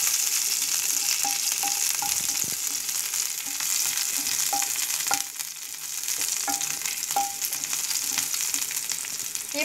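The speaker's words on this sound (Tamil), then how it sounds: "எண்ணெய் சூடானதும் சீரகம், இஞ்சி, பச்சை மிளகாய் போட்டு நல்லா வறுத்துக்கலாங்க" Cumin, ginger and green chilli frying in hot oil for almond cutlets, a steady bright sizzle throughout with a few light clicks of a spoon stirring, close and without talk.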